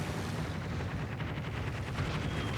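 HE bombs strike a ship in World of Warships Legends, a dense, continuous rumble of booming impacts with a low, heavy roar throughout and no speech.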